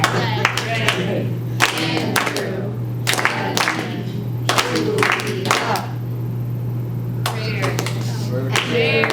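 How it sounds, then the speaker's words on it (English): Children clap out the syllables of a name in a classroom game, a few close sharp hand claps in small rhythmic groups with quiet pauses between, over a steady low electrical hum. "clap the syllables"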